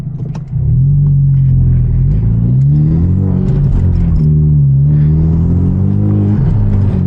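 A Genesis Coupe with over 300 horsepower, bolt-on upgrades and a turbo accelerates on a night drive, its engine tone rising and falling in loud, close, rumbling sweeps with no talking.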